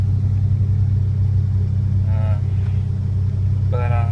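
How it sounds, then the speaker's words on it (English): A 1986 Ford Ranger with a 2.9 engine idles high while still cold, a steady close low rumble that stays level throughout, with brief speech over it near the end. "It idles high till it's warm"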